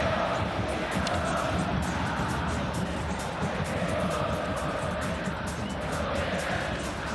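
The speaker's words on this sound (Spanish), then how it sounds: "merecida ovación para Marcelo Trapito Barovero" A stadium crowd gives a sustained ovation for River goalkeeper Marcelo Barovero at his farewell match against Gimnasia, a dense continuous roar with clapping and chanting filling the whole stretch at steady loudness.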